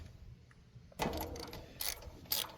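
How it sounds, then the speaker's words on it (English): A socket ratchet loosens the spark plug on a Generac 7500e portable generator, giving a few brief clicking bursts close by, with no talking. "just gonna keep ratcheting it until it's loose and comes out"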